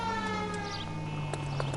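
A faint, steady police car siren drones in the background of a scene in the game L.A. Noire, with a few soft clatters over it.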